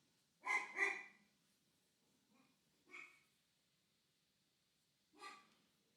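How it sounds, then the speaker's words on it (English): A dog barks in a quiet room, giving a quick double bark followed by a faint, soft sound and then two more single barks spaced apart, each moderately loud and fairly close. "a dog barking."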